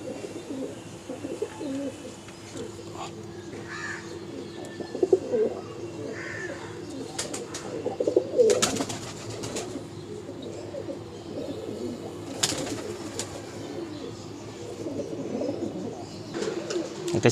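Pigeons cooing at a busy pigeon market, with soft, low coos repeating throughout over a steady background hum and scattered faint clatter.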